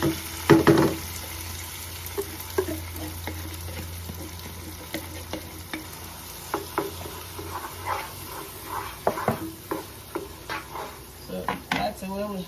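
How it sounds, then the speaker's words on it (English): Palm nuts going into a pot of seafood banga soup and being stirred, with a sharp clatter and sizzle at the start, then scattered soft scrapes and knocks of a spoon against the pot. "right now we have to add the palm nuts"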